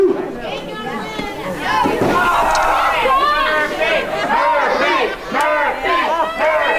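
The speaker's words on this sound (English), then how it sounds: "Crowd getting behind Anakin Murphy" A wrestling crowd cheers and chatters loudly and steadily throughout, with voices mixed into the dense, continuous roar.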